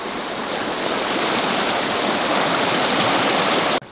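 Creek water rushes steadily and loudly on a hike, a dense close-up wash of flowing water that holds constant throughout before cutting off at the end.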